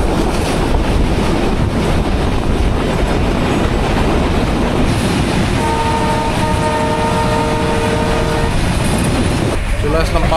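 A passenger train pulls into Parbatipur railway junction, with loud continuous rumbling and rattling of the carriages and a sustained horn-like tone partway through, all close and enveloping.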